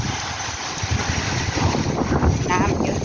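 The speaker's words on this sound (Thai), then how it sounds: "ลมแรง" Strong wind roars steadily across the microphone outdoors, a loud continuous rushing buffet with low thumps, while a person speaks briefly beneath it.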